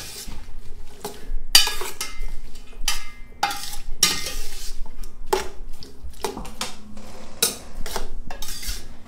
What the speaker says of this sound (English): so we get a nice saute going here